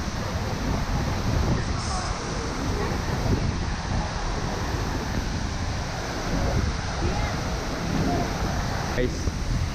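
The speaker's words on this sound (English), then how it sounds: "We're under the waterfall right now." Waterfall in Iceland heard from underneath, a dense, continuous roar of falling water mixed with wind noise, loud and steady throughout.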